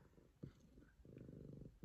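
A domestic cat purrs softly up close, its rhythmic rumble rising and falling in short bursts, quiet and alone with no talking.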